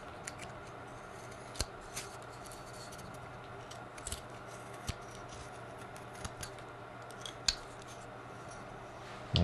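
A small carving knife cuts V cuts out of wood in a quiet setting, giving soft, sparse, sharp little snicks and scrapes spread over a low steady background hum.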